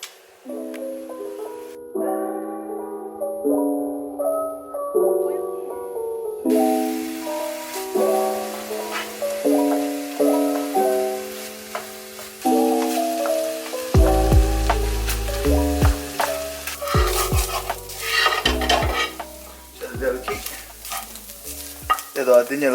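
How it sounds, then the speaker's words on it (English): Ground pork and ground beef being stirred for Thai larb in a hot pan, a steady sizzle with scraping stir strokes running throughout, mixed under continuous background music. "ground pork, ground beef, look. And mix it."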